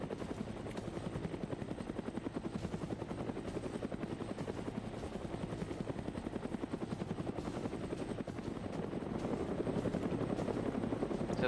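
Huey helicopters in Arma 3 keep up a continuous rapid rotor thump, steady and fairly close, with the chopping beat holding even throughout and swelling slightly toward the end.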